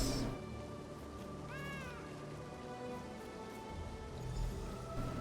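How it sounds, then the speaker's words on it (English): A spirit cat in the video game Elder Scrolls Online gives a clear rising-and-falling meow in the middle, set against a steady ambient game soundscape with a soft rain-like background. "Oh, it really is a spirit cat."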